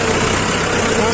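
A Mahindra 415 DI SP Plus tractor engine drives into a muddy path, a steady loud rumbling drone with broadband noise that holds throughout the short stretch.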